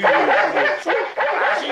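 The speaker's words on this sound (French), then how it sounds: "Higgins, il faut absolument mettre ces chiens dehors." Dogs in an 80s TV series bark and yip over and over at close range, loud and dense, with a faint voice underneath.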